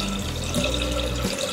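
Soaked millet water pours steadily into a clay pot set on a gas stove, a continuous close splashing trickle that runs alone for about a second and a half with no voices.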